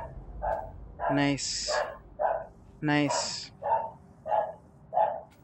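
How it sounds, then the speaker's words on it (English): A dog barks in a room while a God of War Ragnarok game plays, several loud yips and barks in uneven bursts, close by, with a brief spoken word among them. "my dog's barking"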